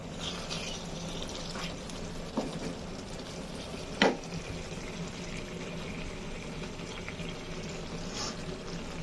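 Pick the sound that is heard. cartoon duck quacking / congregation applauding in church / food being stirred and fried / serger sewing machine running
food being stirred and fried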